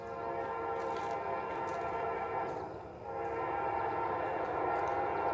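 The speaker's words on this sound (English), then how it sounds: "It's a nice K5LA." A Norfolk Southern train sounds a K5LA horn in a sustained, chord-like blast that holds for several seconds over rumbling rail noise, loud but a little distant.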